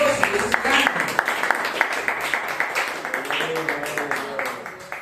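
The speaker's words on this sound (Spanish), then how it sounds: "Démosle un fuerte aplauso al Señor, hermano." A church congregation applauds during a sermon, a fairly dense wash of clapping with voices and a sung or spoken tone running through it.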